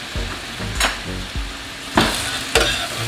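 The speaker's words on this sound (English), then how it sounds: "Now that this pan is hot on the side, just add the peppers" Peppers sizzle and fry in a hot pan for a chicken quesadilla taco filling, with a steady crackle broken by several sharp stirring scrapes and louder bursts as the pieces are moved around.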